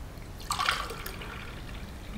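Lukewarm water poured from a glass into a bowl for challah dough, a short splashing pour near the mic that tapers into faint trickling.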